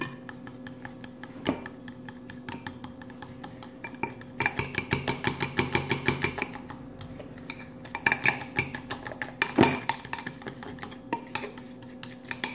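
A utensil clinks and scrapes rapidly against a bowl while Greek yogurt is mixed with powdered light milk, a busy rhythmic tapping that grows denser partway through and carries on steadily.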